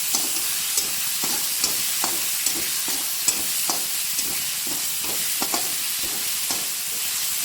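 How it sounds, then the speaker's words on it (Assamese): Tomatoes and ginger fry in a pan for a pumpkin chicken dish, a steady bright sizzle with soft, regular stirring scrapes every half second or so, close and continuous. "এইখিনি অলপ সময় ভাজি ল'ম।"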